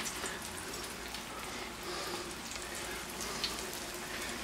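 Sweet potato patties sizzle as they shallow fry in vegetable oil: a steady, soft crackling hiss, fairly quiet and even throughout, with no talking.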